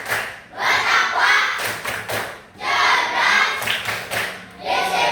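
Fifth-grade schoolchildren in a classroom clap in a rhythmic chant: loud, close bursts of group clapping in repeated phrases, with short gaps between them and voices chanting along.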